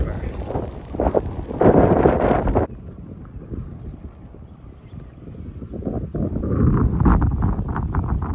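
Strong wind buffets the microphone on a hilltop viewpoint in Chikkamagaluru, with loud roaring gusts in the first few seconds that ease off, then build again toward the end.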